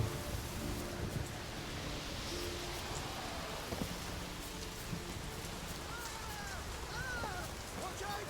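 Steady rain falls throughout a rainy scene in The Witcher 3: Wild Hunt, a constant broadband hiss with faint scattered drips and other soft game sounds underneath.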